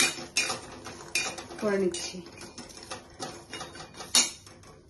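Something dry-roasted in a dry wok (kadai) for egg bhurji, heard as sharp metal clinks and scrapes of a utensil against the pan, irregular and close, with a brief voice speaking partway through.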